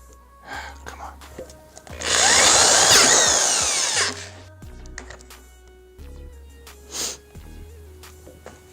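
A power drill runs for about two seconds in a loud steady whir, broken by short bursts and tool handling before and after, while a voice speaks briefly during a motorcycle handlebar replacement.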